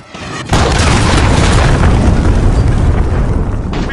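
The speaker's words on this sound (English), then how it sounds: "Enemy cruise missile incoming." Cruise missile explosion in Call of Duty Modern Warfare on the Piccadilly map, a sudden, loud, close blast after a brief quiet moment, then a sustained rumbling roar with no talk over it.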